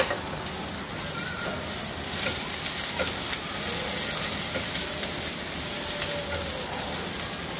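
Garlic, ginger and onions frying in a pan on high heat give a steady, loud sizzle with crackling pops throughout, with no pause.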